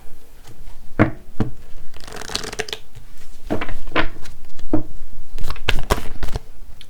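Tarot cards shuffled by hand up close, a run of crisp riffling and slapping bursts that builds into denser continuous shuffling, with no voices.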